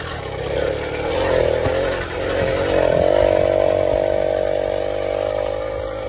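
A repaired engine fitted with a speed carburetor runs close and loud, a steady buzzing drone that dips briefly then revs up and holds a higher, even pitch.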